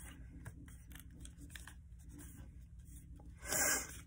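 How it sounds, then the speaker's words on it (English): A sheet of paper is folded and creased by hand into a paper fighter jet. Quiet, close rustling and rubbing repeat through the clip, ending with one louder, sharper crinkle. "I'm gonna fold that up."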